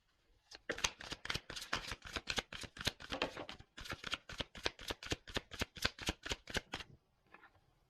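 A deck of cards is shuffled close by in two rapid runs of crisp, rhythmic riffling clicks, separated by a brief pause and ending with a few soft taps.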